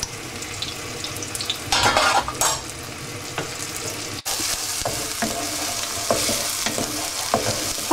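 Onion, garlic and chilli paste frying in a pan for pork satay, a loud steady sizzle with bursts of stirring and utensil clatter near the start, then continuous crackling after a brief break.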